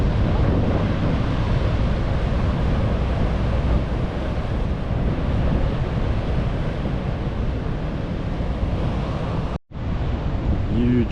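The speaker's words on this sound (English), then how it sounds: "look at the size of these waves crashing through here" Large ocean waves crash through Chivongo Pier amid heavy white water, a loud, continuous roaring wash buffeted by wind on the microphone, with one brief dropout near the end.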